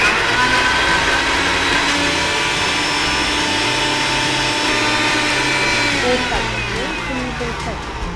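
Kitchen mixer grinder blending batter for aloo bonda or a chipped milkshake, a loud continuous whirring motor hum that stays steady for several seconds before the pitch sweeps and the whine slowly fades.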